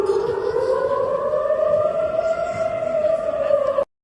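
A civil defense siren wails steadily during a Yemeni missile attack on Israel, its loud rising-and-holding tone sustained for several seconds before cutting off abruptly near the end.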